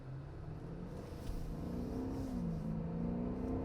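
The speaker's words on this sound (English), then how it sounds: "That's foot to the floor in Sport mode." A 2019 Genesis G90 5.0 Ultimate accelerates at full throttle in Sport mode, a rising engine drone climbing steadily in pitch as heard from inside the cabin, with no talk.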